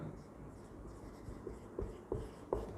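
Writing on a classroom board during a school science lesson on motion problems: a few short tapping strokes in the latter half, close, over a low steady room background.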